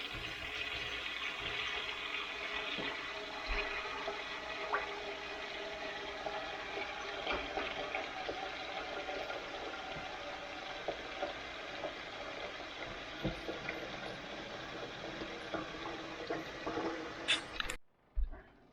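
Water runs steadily from a tap into a pot for a long stretch, a constant rushing hiss at moderate distance, ending with a few clunks.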